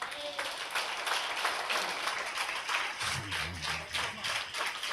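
Congregation at a church prayer meeting clapping hands together, a steady dense patter of applause continuing throughout, fairly loud with some voices mixed in.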